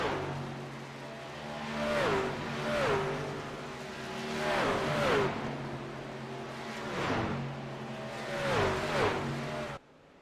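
Race trucks at Homestead Miami Speedway sweep past in repeated waves, their engines rising and falling as each pass builds and fades, before the sound cuts off abruptly.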